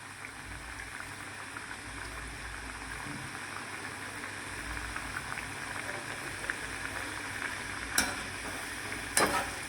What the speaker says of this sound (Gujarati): હવે શક્કરપારાને આવી રીતે તળી લઈશું